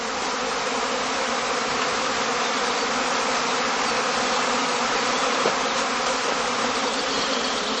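Honey bees at a heather skep apiary make a dense, continuous buzzing drone that stays loud and even throughout, with no voices.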